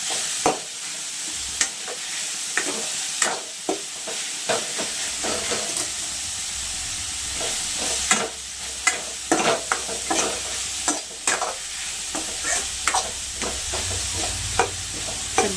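Vegetables for a momo filling being stir-fried in a pan, a steady sizzle with repeated scraping and clacking strokes of a spatula throughout, close and fairly loud, no talking.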